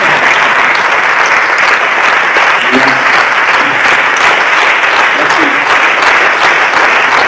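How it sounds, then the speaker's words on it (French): A concert audience claps loudly and steadily at the show's end. The dense, sustained applause keeps an even intensity throughout, with a faint cheer here and there. "On peut applaudir bien fort."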